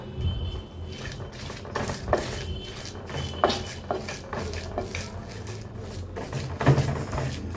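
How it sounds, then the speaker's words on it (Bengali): Deboned taki fish bharta being ground on a clay grinding stone, giving repeated close scraping and rubbing strokes with soft knocks in an irregular rhythm, no voices. "এখন ভর্তাটা বেটে নেব"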